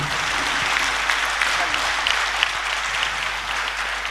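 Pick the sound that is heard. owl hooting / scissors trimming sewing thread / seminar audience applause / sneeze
seminar audience applause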